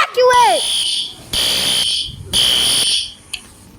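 A building fire alarm sounds in loud repeated electronic blasts, each about a second long with short gaps between, and a voice briefly interrupts.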